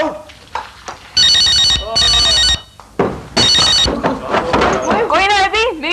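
A telephone rings in loud repeated bursts, with people talking between and after the rings in a domestic drama scene.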